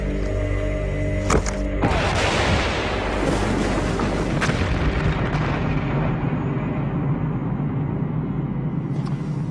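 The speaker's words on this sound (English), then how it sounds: "the Bangalore torpedo has blown a channel right through our barbed wire entanglement" A Bangalore torpedo explodes against a barbed wire entanglement in a wartime demonstration, a single loud, close blast at about two seconds, followed by a long rumbling roar and settling debris that slowly fades.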